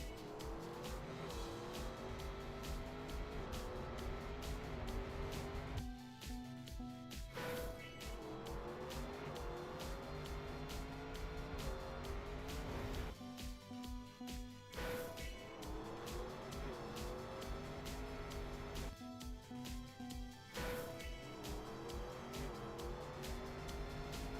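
A car in the Trackmania racing game, its engine droning and whining through repeated gear shifts, with tire squeals and skids recurring over a long stretch, loud and steady with no voices.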